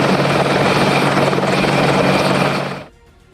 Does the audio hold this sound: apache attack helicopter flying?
yes